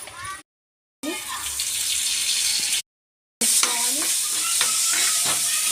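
Gongura pachadi with turmeric is mixed by spoon, giving wet scraping and stirring sounds with a bright hiss. Two short gaps of silence interrupt the stirring.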